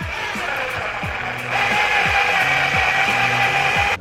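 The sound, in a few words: drilling small screw hole for floating shelf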